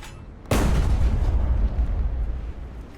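A single powerful cannon shot from a Jagdtiger tank in a video game battle against a battleship, a sudden loud boom followed by a deep, rumbling decay.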